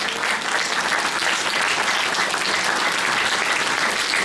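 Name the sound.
congregation applause at church anniversary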